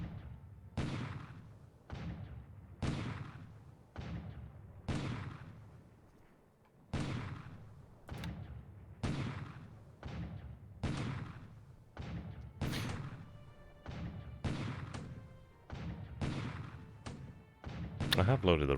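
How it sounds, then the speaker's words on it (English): Repeated heavy naval gunfire thuds during a bombardment of Tulagi in the War in the Pacific strategy game, about sixteen booming shots at a steady, roughly one-per-second rhythm, loud and close, with faint talk beneath. "so he's going to bombard Talagi again"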